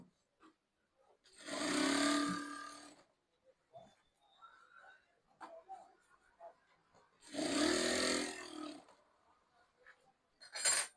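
Sewing machine double-stitching a shirt in two fast, loud bursts of rapid whirring stitches separated by quiet handling clicks, with a short third burst at the end.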